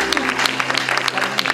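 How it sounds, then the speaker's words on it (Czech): An audience claps for Hanka, captain of the red team, as she enters at a team game event. The applause is short and dense, with a voice talking over it. "A přichází tým červených. Kapitánka Hanka, zatleskejte."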